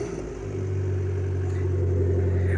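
An Abarth car engine fitted with a new pop-off filter system and aftermarket exhaust drones close and loud at a steady low pitch, swelling slightly into a small rev toward the end, with no voices.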